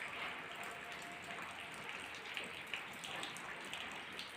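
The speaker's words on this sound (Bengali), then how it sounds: "কীরকম মানে বৃষ্টি হচ্ছে এখন, মানে কম, কিন্তু রাতে না ভীষণ বৃষ্টি হয়েছে।" Light morning rain falls steadily outdoors, a faint, even patter with scattered soft drops and no voices.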